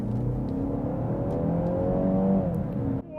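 BMW X1 small SUV accelerating hard: a steady, loud engine drone with rising pitch as revs climb, heard from inside the cabin, no talk, ending with a brief drop as the gear changes.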